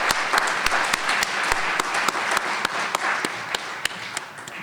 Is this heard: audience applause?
yes